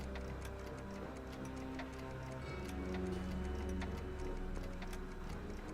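Clock ticking in the Back to the Future III game, a steady, even tick-tock repeating throughout over a low soft background hum, with no talking.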